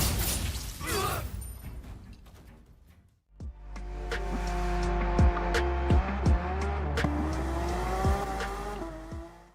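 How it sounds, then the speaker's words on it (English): Racing cars in Gran Turismo 7 driving simulation: after a brief noisy burst, a steady loud engine drone with shifting revs and repeated sharp transient clicks or impacts, close and continuous. "Gran Turismo 7 is one of the most comprehensive driving simulations that appeal to car enthusiasts with its realistic racing experience."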